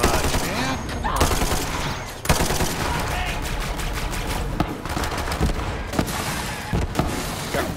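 Enemies firing guns in Borderlands 3, a loud, rapid barrage of automatic and single shots with occasional heavier thuds over game sound and background talk.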